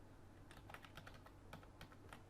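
Quiet, rapid typing on a computer keyboard, a run of light irregular key clicks with no talking.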